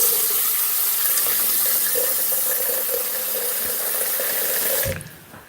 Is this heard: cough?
no